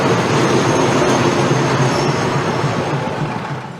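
Train rolling along tracks through Talat Phlu market in Bangkok, a loud, steady rumble with rail noise and faint wheel squeal close by, easing slightly toward the end.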